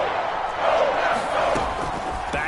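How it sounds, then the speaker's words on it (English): A stadium crowd in a PS4 American football video game roars steadily ahead of a big third down, a dense, continuous wash of cheering that swells slightly midway. "The crowd getting into it as we come up on a big third down."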